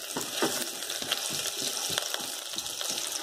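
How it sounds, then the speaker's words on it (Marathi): Potato slices sauté in ghee for a peanut amti, a steady close sizzle broken by repeated clicks and scrapes of stirring. "आपण एखादा मिनिट आपण याला व्यवस्थित तुपावर परतून घेऊया."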